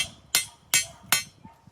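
Hammer driving a rebar stake into the ground outdoors to hold up a triangle shade cloth over a baby tortoise enclosure, three sharp evenly spaced metallic strikes close up, then a fainter tap.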